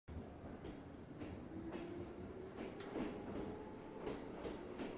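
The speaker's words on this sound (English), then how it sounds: "The train began to move." A train pulls away from a station platform, its low rumble and rolling wheel clatter building steadily with a faint tonal whine, heard from inside at moderate distance.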